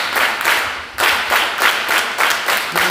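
A seminar crowd claps together in a repeated pattern, bursts of many hands in a steady pulse, loud and near, one brief pause breaking the rhythm early on.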